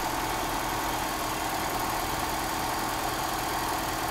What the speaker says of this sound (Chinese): 用听觉啊，我们不要看表。 哦，再退45度，哦，很明显转速降了。